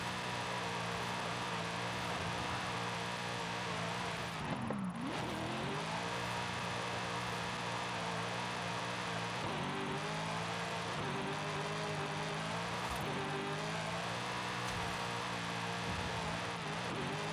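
Car engine held high in fourth gear during a drift in Forza Horizon 5, a loud continuous droning rev with pitch dips and swells as the throttle shifts, running nearly unbroken.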